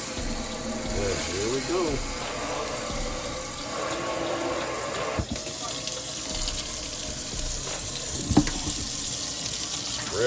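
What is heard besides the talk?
kitchen faucet sprayer running water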